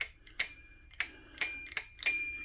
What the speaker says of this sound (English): You get a little bell.